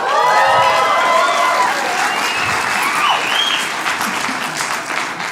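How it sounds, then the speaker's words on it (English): At a stand-up comedy show, an audience claps in a dense, sustained burst with a few whistles and whoops mixed in; the applause is loud and close at first and tapers slightly. "Don't clap."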